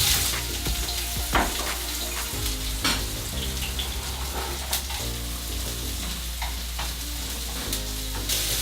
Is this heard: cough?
no